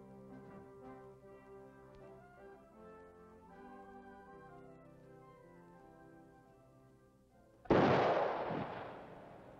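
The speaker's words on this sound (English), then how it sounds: "The traditional volley of three blank rounds will be fired only if the next of kin requests it." A ceremonial rifle volley of blank rounds at a military state funeral cracks out as one loud, sharp burst near the end, cutting across sustained band music that plays beforehand.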